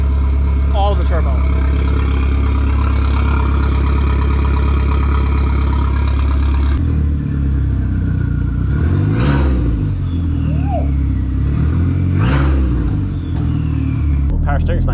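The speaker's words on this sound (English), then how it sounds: "Oh my goodness, listen to that turbo spool." A VW Golf 3 with a swapped 1.8T engine and a 3-inch open downpipe revs loudly up close, its deep engine roar rising and falling while a turbo whistle spools up in sweeping climbs, with voices talking over it.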